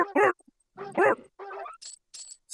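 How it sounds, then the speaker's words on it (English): Dog-like creature noises from the Everquest 2 Pocket PC video game: a run of short, sharp yips and barks, some rising into thin whines, with brief gaps between them. "Such needlessly dog-like sounds."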